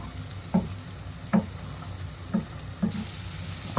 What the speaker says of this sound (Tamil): இதையும் நல்லா அப்படியே வதக்கி விட்டுக்கலாம்